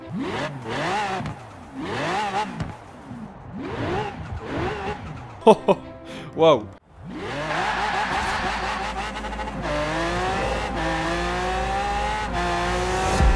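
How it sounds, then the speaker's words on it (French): A Lamborghini, the rarest car in Forza Horizon 4, revs its engine hard in the video game with rising and falling whines, screeching tires and a sustained high-revving roar. A man exclaims loudly over it. "Les Lambo, vraiment, c'est des sacrées voitures. Écoutez ça."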